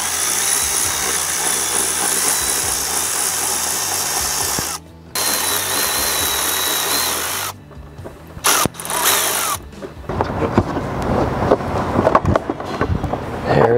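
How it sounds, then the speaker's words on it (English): A power tool whirs steadily while removing two 10mm bolts holding the airbox of a 2024 Ford Mustang, with brief cut-offs and restarts, then a rougher rattling spin-down at close range. "Now we've got two 10mm bolts that hold the airbox down onto the frame. Let's remove those right now."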